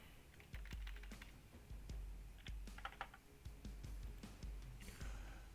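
Close, fairly quiet computer keyboard typing: a steady run of crisp key clicks with small irregular pauses, and no talking over it.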